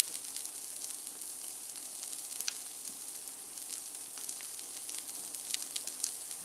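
A burger patty sizzles steadily in a hot pan just after being flipped to sear, a constant fine crackling hiss with small pops, close and fairly quiet, with no one talking.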